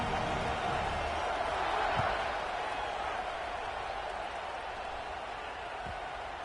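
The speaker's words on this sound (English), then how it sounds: "this crowd now ready to get behind them" A college football video game stadium crowd roars at kickoff, a broad, distant wash of cheering that swells slightly near the start and then holds steady at a moderate level, with commentary voices over it.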